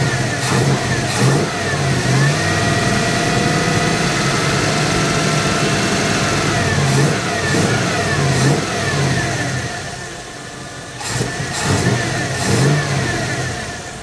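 A V8 car engine with a suspect carburetor revs up and down during tuning, close and loud, with a rough idle between throttle blips and a noticeable hesitation.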